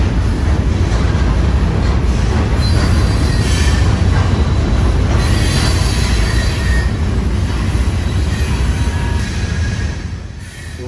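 A Florida East Coast Railway freight train of loaded rock hoppers rolls past close by, a loud continuous rumble of wheels with squealing and clatter that eases off at the end.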